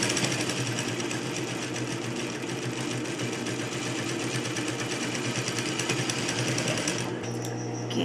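A sewing machine stitches a quarter-inch seam in a polo shirt coaster, whirring steadily and loudly for several seconds before slowing near the end.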